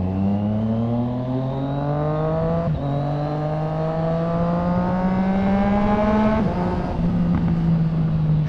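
A Triumph Street Triple R motorcycle fitted with a Zard exhaust revs loudly and close by, a steady rising engine drone with two brief throttle dips, alone without talk.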